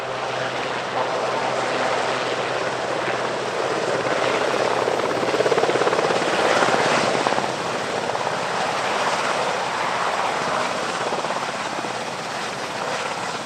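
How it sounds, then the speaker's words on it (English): A Sea King HAR-3 search and rescue helicopter drones steadily overhead at an airshow, its rotor noise broad and sustained, swelling slightly in the middle as it passes, with no talking. "the Sea King HAR-3 is a long-range search and rescue variant"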